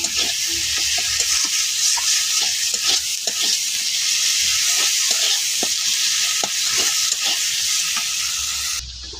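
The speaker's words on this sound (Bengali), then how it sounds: "তো আমি ভালো দিয়ে মশলাটা কষাই নিতেছি, ভাজা ভাজা করে নিতেছি। শুটকিটাও আগে দিয়ে নিলাম।" Dried fish and spices fry in a pan with a loud, steady sizzle, broken by repeated scraping strokes of a spoon stirring throughout, with no one speaking.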